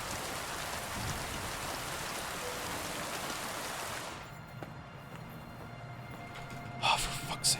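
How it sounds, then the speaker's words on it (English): Rain falls in Kingdom Come: Deliverance II as a dense, steady hiss that cuts off suddenly partway through and leaves quiet ambience behind, with a couple of faint sounds near the end. "I love rain."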